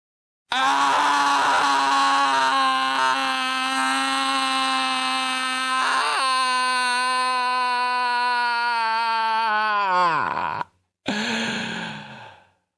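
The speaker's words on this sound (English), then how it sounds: "we're going to breathe in for 7, and we're going to scream out, scream for how long? 10?" People let out one long, loud, sustained scream lasting about ten seconds, its pitch sagging as breath runs out, followed by a brief second shout.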